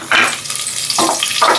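Whole spices, kasuri methi and bay leaves dropped into hot oil in a pan, producing short bursts of crackling sizzle and light clinks, three separate spurts close up with quieter gaps between.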